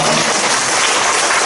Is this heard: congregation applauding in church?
yes